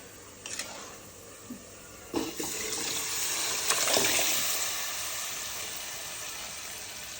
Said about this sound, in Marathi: आता हे मटण उकडलेलं आता ह्याच्यामध्ये टाकून घेते